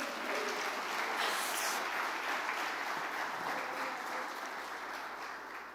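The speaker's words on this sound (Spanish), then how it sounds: "Un aplauso para la Reforma Protestante" Applause from an audience at a lecture on the Protestant Reformation, a broad steady hiss of clapping that holds evenly and fades slightly near the end, heard alone without speech.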